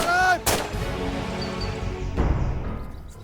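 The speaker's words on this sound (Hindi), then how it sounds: "और केहू ना मिलल तो ओकरा पे गोली चला देलस?" A gun is fired in a Bhojpuri drama scene: one sharp, loud shot rings out early, followed later by a second duller bang, with faint background noise between.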